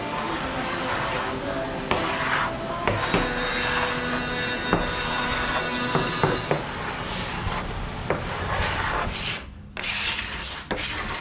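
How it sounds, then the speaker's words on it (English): A hand scraper stripping a sticky old finish off a wooden table top, with continuous harsh rasping strokes and occasional sharp scrapes and knocks, close and steady throughout. "I'm gonna go ahead and start stripping it. I'm just gonna use just a scraper"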